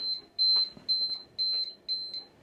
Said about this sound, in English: That's my alarm to tell me it's time to pull my jacket potato out.